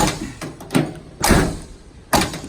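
The door of a 1979 Ford Bronco with a stiff, catching hinge is worked open and shut, giving several close, sharp metallic clunks and latch clicks spaced irregularly over a few seconds.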